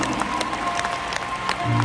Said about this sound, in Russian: какие у вас фантастические аплодисменты